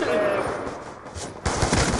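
Rapid automatic gunfire in a zombie shooter video game, dense and continuous bursts that dip briefly then resume louder near the end.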